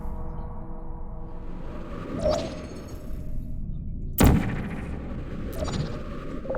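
Portal gun firing in the Portal video game, a few sharp electronic zaps over a steady ambient hum, one louder and heavier than the others, no speech.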